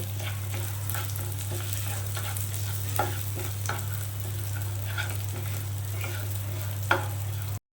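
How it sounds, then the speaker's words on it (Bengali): Moong dal roasting in a pan gives a steady, close sizzle with scattered light clicks and scrapes from stirring, over a constant low hum. "মুগ ডালটা আমি ভালো করে একটু ভেজে নেব"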